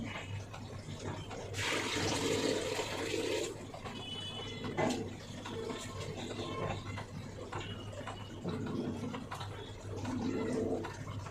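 Water is poured off washed rice, splashing and trickling in a fairly faint, uneven stream with a stronger gush early on and quieter running water later.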